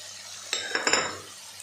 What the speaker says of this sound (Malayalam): പച്ചമണം മാറുമ്പോൾ വരെ ഇളക്കാം